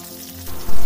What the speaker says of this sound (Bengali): চিকেনগুলির এই দিকটি ভাজা হয়ে গিয়েছে, এবার উল্টে অন্য দিকটিও ভেজে নেব।